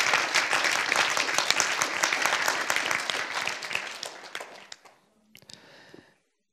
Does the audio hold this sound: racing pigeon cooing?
no